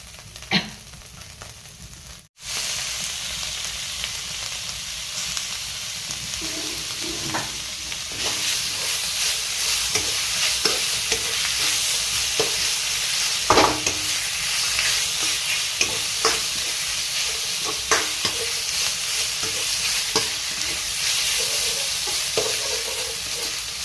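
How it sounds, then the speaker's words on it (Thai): Spicy wild boar curry being stir-fried in a pan, a steady loud sizzle with repeated scraping and clatter of the spatula continuing throughout, no voices. "ผัดเลยครับเนี่ย ผัดให้มันฟุ้งเลย"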